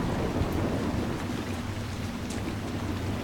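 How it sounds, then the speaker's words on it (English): Thunder and lightning strikes in the Dragon Age: Inquisition video game, with a continuous rolling rumble and rain-like hiss, steady and fairly loud, with a few sharp crackles and no talk. "Why is lightning always hitting near her?"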